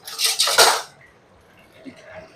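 Large fish pieces dropped into a hot pan for frying burst into a loud, close sizzle with clatter for just under a second, then fade to a faint hiss with a soft clink near the end.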